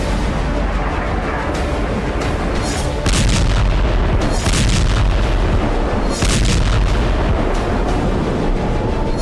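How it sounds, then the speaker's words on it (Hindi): Rocket and ballistic missile strikes exploding over Tel Aviv: heavy, rumbling booms roll one after another through a constant loud roar, with several stronger blasts standing out, distorted and saturated. "रॉकेट के साथ साथ बैलिस्टिक मिसाइल से तेल अवीव के आसमान में गदर मचाया।"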